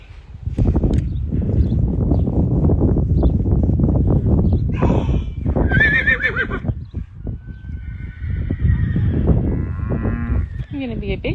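Young horse at a horse rescue calling out with drawn-out, wavering neighs in the middle and later part, heard over a loud, constant barn-like background of shuffling and livestock noise.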